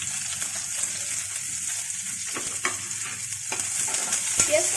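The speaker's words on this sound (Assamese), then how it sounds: "পিঁয়াজখিনি অকণমান ৰঙচুৱা হোৱালৈকে ভাজিব লাগিব" Onions sizzle and fry steadily in hot oil in a pan, a continuous close crackling hiss with occasional stirring scrapes and brief pops, no voices.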